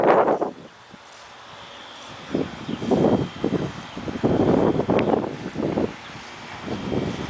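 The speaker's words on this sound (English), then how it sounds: "Kind of windy out still." Wind blows outdoors in a yard after a windstorm, a steady breezy rush with gusty swells and rustling, no talking over it.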